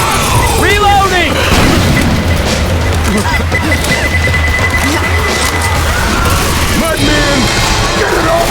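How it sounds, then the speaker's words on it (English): A pipe bomb explodes in Left 4 Dead 2 as a loud, dense boom that rolls on through the whole stretch, with frantic game chaos and shouting voices mixed over it. "Pipe bomb out!"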